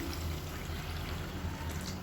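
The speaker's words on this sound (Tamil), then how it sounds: "இதில் வந்து நல்லா இப்போ 1 டம்ளர் அளவுக்கு தண்ணி சேர்த்துக்கலாம்." Hot water is poured from a tumbler into tomato gravy in a cooking pot, a soft continuous liquid splash and trickle heard close but faint, with no talking.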